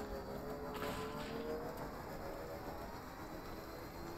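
Rain falling in Death Stranding, a quiet, even hiss of steady rainfall that continues throughout with no voices over it.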